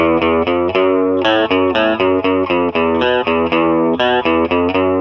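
A distorted electric guitar plays a riff in short, clipped bursts, each note cut off abruptly for a choppy, staccato feel.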